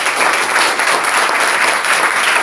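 Congregation at a French-language religious gathering applauding the Lord, a loud, dense burst of clapping from many hands filling the whole moment.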